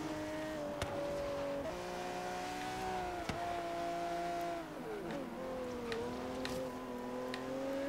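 Car engine revving and accelerating in the Forza Horizon 3 racing game, an AMG among the cars, a steady tonal whine that drifts through pitch shifts and drops, with short ticking clicks over it, moderately loud and without talk.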